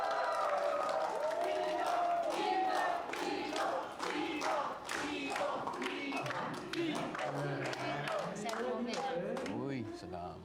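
Crowd at a live Filipino comedy show cheering, shouting and clapping loudly and steadily, with excited voices mixed through the noise and tapering slightly toward the end.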